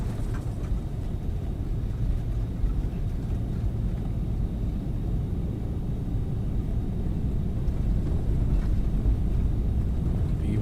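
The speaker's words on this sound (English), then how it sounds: "release the brakes. Man, listen to those sounds. We have two good engines," Twin jet engines of an Embraer Phenom 300 during the takeoff roll, a steady loud roaring rumble with broadband rush, heard from inside the cockpit and building slightly toward the end.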